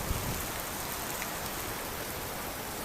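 Heavy typhoon rain pours over Victoria Harbour in Central Hong Kong, a dense, steady hiss of downpour with no break, fairly loud and constant throughout.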